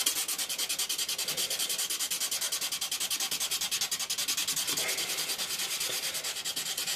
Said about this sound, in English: we're just gonna hold the blade, and we're just gonna sand